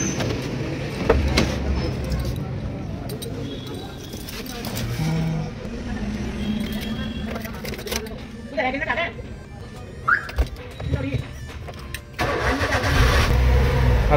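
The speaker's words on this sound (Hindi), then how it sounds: "अब जैसे ये गाड़ी स्टार्ट कर दिया मैंने" A car with an air-conditioning cooling problem being started, the engine cranking and catching, then idling steadily at a moderate level while someone talks over it and a few clicks and knocks sound near the end.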